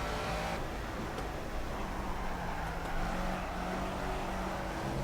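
A game car drifts in Project Cars, its engine droning steadily with a rough low rumble and tyre noise blended in, played back quietly and continuously without any talk.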